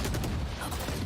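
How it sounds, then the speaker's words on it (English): Rapid gunfire in Valorant during a VCT 2021 Masters Korea semi-final match, shots fired through a box as a wall bang, sounding as a dense, continuous burst at steady loudness. "RB shooting through that box."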